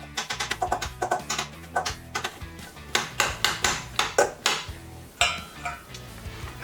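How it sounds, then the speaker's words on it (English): Rhythmic knocking and scraping of a masher working cooked potatoes in a bowl for Japanese potato salad, a quick series of close, sharp taps with brief pauses between bursts, heard alone. "start mashing them up, not too much"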